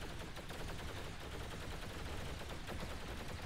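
Weapons fire in the space game X3: Terran Conflict, a faint continuous rattle of rapid shots under steady background noise with no clear breaks.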